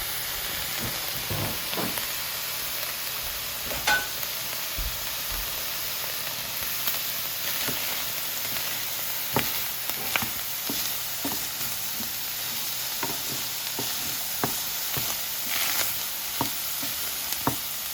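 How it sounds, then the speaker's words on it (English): Steady crackling sizzle of tacos frying in hot grease, with occasional pops and scrapes, continuous and close. "I want the gang to see how it's sizzling."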